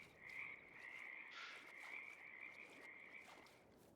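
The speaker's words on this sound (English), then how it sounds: "Oh, frogs." Frogs croak in the TerraLife Plus farming video game, a continuous trilling chorus that keeps going throughout at moderate level with nothing else over it.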